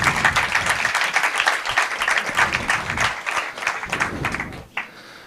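Sustained audience applause fills a comedy show hall, dense and steady for nearly five seconds before cutting off sharply near the end.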